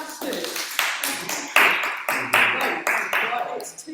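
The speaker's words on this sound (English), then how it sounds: "Give yourselves a round of applause." Small audience clapping after a t'ai chi session, a burst of uneven handclaps with several louder surges, close by and steady throughout.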